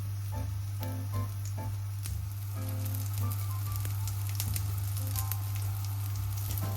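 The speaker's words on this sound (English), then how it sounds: "then you're going to place the fish cakes in once the pan's up to temperature" Fish cakes fry in oil in a non-stick pan with a close, steady sizzle and scattered small pops over a constant low hum, with no voices.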